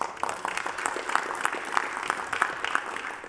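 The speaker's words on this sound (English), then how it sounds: "Let's keep the applause for a moment" Applause in a council chamber during a full council meeting: scattered hand claps from a modest group, fairly light and uneven, lasting a few seconds before thinning out.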